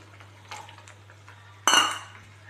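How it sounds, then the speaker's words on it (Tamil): A metal pot of simmering egg curry gets tamarind water added, with a soft clatter of utensil against pot followed by a sudden louder splashing pour that fades quickly, no voices. "இப்போ நம்ம புளி தண்ணி ஊற்றிடலாம்."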